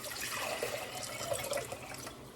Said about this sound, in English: To make the rice, I'm going to take 4 cups of water and bring it to a boil.